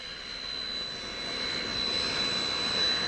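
Led Zeppelin's private jet at Tampa International Airport, a steady roaring jet engine with a thin high whine riding on top, slowly building in loudness across the clip.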